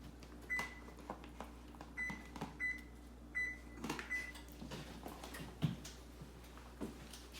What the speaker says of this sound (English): I'm going to turn my oven on.